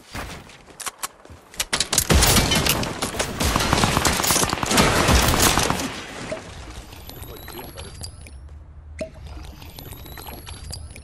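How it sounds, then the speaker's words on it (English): Video game gunfire: dense rapid bursts of shots for several seconds, then quieter scattered pops and thin whistling tones. "We're shooting right now."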